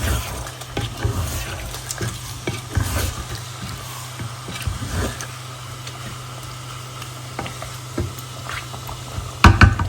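Fish curry and vegetables cooking in a pan in a home kitchen, with steady sizzling and bubbling, scattered clinks and scraping of stirring, and a louder clatter right at the end.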